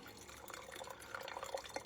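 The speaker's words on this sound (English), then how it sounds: "we'll pour this into the glass container so you can see" French press coffee pours into a glass container as a quiet trickle of liquid with small splashes and drips, soft and close, with no voices.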